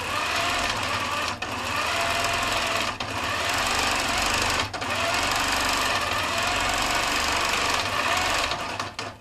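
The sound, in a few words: I/S Turbo quilting machine stitching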